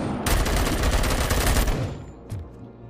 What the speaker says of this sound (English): So stop shooting at me, man.